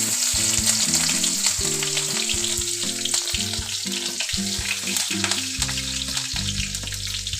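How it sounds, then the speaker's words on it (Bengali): Flattened rice and chopped green chillies fry in a wok, a steady loud sizzle running throughout with low tonal background music layered beneath. "এবার কড়াইতে দিয়ে দেবো একটু গোটা চিড়ে তারপর দিয়ে দেবো কাঁচা লঙ্কা কুচি"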